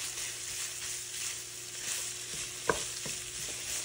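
One pound of breakfast sausage browns in a pan, a steady close sizzle with occasional scraping and clicks of a utensil stirring it, with no talking.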